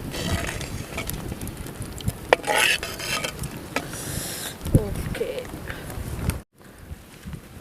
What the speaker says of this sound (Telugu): ఈ ఆయిల్లోనే ఆవలు వేసేసుకుంటున్నాను